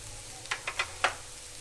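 Egg noodles with masala frying in a pan, a faint steady sizzle broken by a few quick stirring scrapes, close and quiet.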